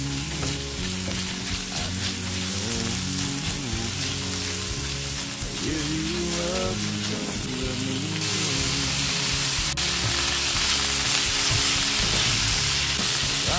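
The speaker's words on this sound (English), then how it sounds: "now we add the broccoli" Broccoli hitting a hot pan of shrimp in garlic sauce, sizzling and frying steadily with stirring scrapes and crackles, the sizzle brightening and growing louder partway through, without any voices.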